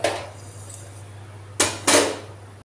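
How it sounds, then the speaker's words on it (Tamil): A pressure cooker is set down on another stove burner in a kitchen, giving two sharp metallic clanks near the end after a brief clatter at the start, over a low steady hum. "குக்கரை வந்து நம்ம பக்கத்து அடுப்புக்கு மாற்றிட்டு"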